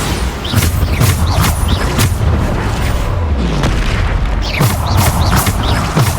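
Bombarda spell blasts in a wizard-dueling video game: a rapid series of loud, booming explosions, about one every second, each with a sharp crack and rumbling tail over continuous battle noise.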